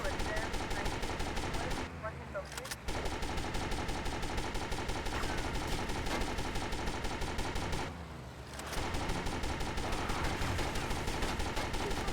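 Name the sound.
gunfire in GTA Vice City video game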